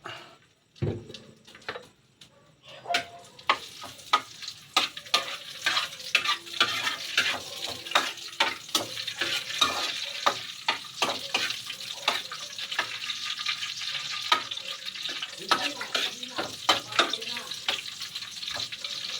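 Garlic and onion sautéing in hot oil for squid adobo, with a loud continuous sizzle and dense clattering stirs throughout, up close. A sharp thump opens it, and a voice is audible faintly in places.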